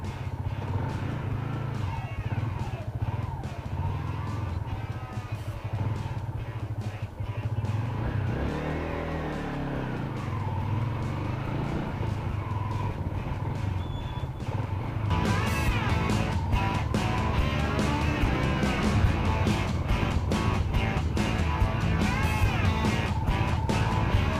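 Traffic along EDSA in Manila heard from the back of a motorcycle taxi, a continuous road roar with engine revving and passing vehicles, loud and close throughout.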